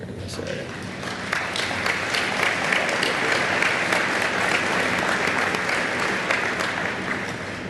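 Sustained audience applause at an agricultural alumni fish fry honoring Indiana state legislators, a dense steady patter of many hands clapping, moderately loud and continuous throughout with no voices standing out.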